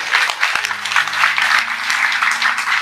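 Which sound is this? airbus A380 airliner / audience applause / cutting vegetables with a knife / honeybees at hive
audience applause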